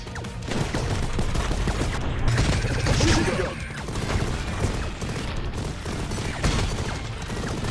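Rapid gunfire from the side-scrolling video game Mighty Goose, a dense, continuous barrage of loud shots and clattering mechanical effects running throughout, with no pauses.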